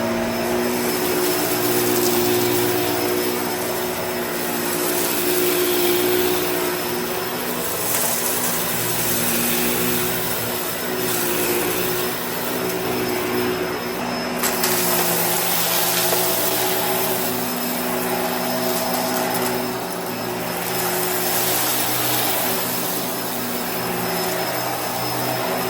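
A Bissell Pet Eraser Turbo vacuum cleaner runs continuously with a loud, steady motor whine and airflow roar, close and alone throughout.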